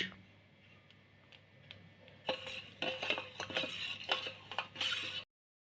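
Cocoa powder and sugar for a chocolate cake are stirred in a bowl, starting as faint clicks over a low hum, then turning into brisk, close metallic scraping and clinking of a spoon before stopping abruptly.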